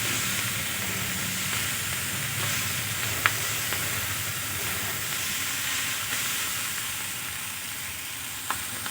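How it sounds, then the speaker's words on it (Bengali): Spring onion stalks and potatoes frying in a pan, giving a steady close sizzle with occasional soft clicks of stirring, continuous and alone without talk. "আমি আরও কিছুক্ষণ ভাজা ভাজা করে নেব।"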